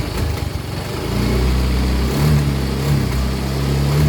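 A Yamaha Mio i125 scooter engine running with a misfire, an uneven low idle that surges and bucks in irregular pulses, close and fairly loud, with no talk.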